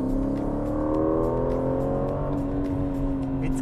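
The V8 engine of a 2023 Aston Martin Vantage, a sports car, revs up with a rising, wailing tone, loud and close, with no talk over it.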